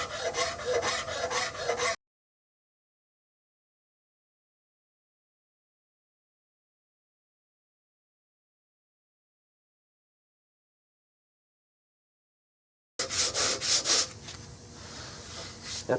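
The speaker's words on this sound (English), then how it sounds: "That 50 grit is almost rougher than the file I was just using." Rasping file and coarse 50-grit sandpaper scraping a wooden gun stock for a Remington 788, heard as close rhythmic rubbing strokes at the start and again after a long silent gap.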